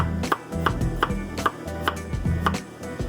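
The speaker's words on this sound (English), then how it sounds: "And I'm gonna go ahead and chop the garlic." A knife chops garlic on a board while Lao lotus root pork soup is being cooked, striking in a steady rhythm of about eight sharp, close taps over a low kitchen hum.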